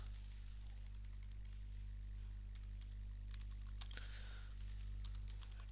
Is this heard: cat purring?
no